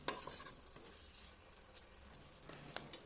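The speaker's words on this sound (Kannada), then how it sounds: "ಬಾಣಲೆಗೆ ಈ ರೀತಿಯಾಗಿ ಸೌಟು ಹಾಕ್ತಾಯಿರಿ" A ladle stirs spinach curry for aloo palak in a pan, a quiet, soft sizzle broken by occasional light scrapes and taps of the ladle against the pan.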